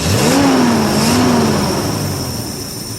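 A 1973 International 1110 tractor engine cold-starting after years of sitting, a loud, steady engine drone with a rising then wavering pitch as it catches and revs, alone with no talk.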